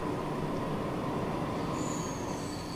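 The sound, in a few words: freight trains in video game Transport Fever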